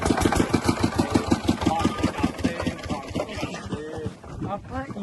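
A modified mini tractor engine runs at idle with a steady, rhythmic diesel-like thumping, loud and close, before voices talk over its fading beat near the end.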